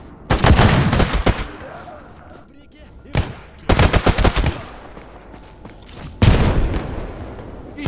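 Bursts of automatic gunfire in the video game Stalker GAMMA, set underground in the Jupiter tunnel: three loud, close rapid-fire volleys with gaps of quieter ambience between them, and no speech.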